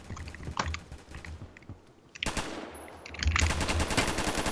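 Gunfire in the shooter game Phantom Forces, scattered shots at first, then a burst of rapid automatic fire that grows louder and denser toward the end.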